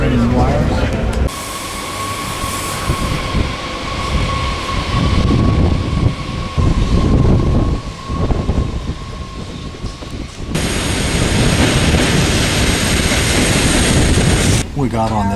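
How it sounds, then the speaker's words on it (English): A TGV high-speed train rushes along fast, with a loud continuous rumble and wind roar inside the carriage. A steady tonal whine and abrupt shifts in the noise are heard, and voices talk briefly over it. "We got on this very comfortable TGV high-speed train with no problem."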